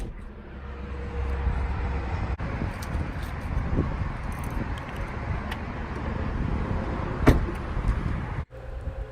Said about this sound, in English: and the doors open electronically.